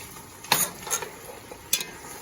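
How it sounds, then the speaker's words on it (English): A spoon stirs tomato sauce into meat in a pot, giving a few scattered scrapes and knocks against the metal over a soft cooking background. "I'm just gonna put it onto the spoon and then just mix it in with the meat"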